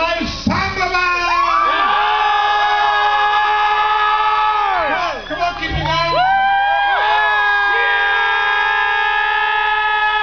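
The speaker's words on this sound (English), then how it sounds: "Are you ready for the big cheer down here?" A crowd of children shouts and cheers loudly for the Congleton High School Samba Band at an outdoor event, with sustained whoops and high-pitched yelling swelling and fading across the whole stretch.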